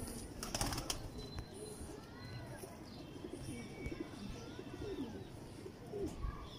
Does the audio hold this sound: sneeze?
no